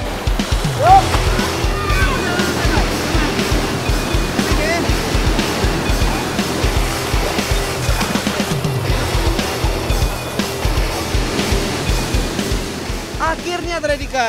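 Rushing water at Air Terjun Timbulun waterfall in Painan roars steadily and broadly throughout, with occasional louder splashes and people talking over the flow.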